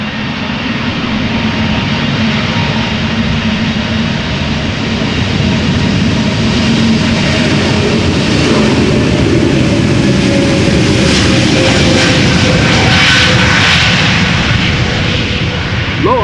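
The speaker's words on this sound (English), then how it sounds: "Low RPM, extremely quiet. Sounds like a very derated takeoff." A seven-year-old Lufthansa Airbus A320neo bound for Frankfurt takes off at Amsterdam Schiphol Airport on a heavily derated, low-RPM roll, giving a steady broad engine roar that swells gradually and stays fairly subdued.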